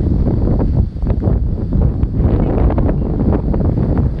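Loud, rumbling wind buffeting the microphone in Busan, South Korea, continuous and gusty throughout.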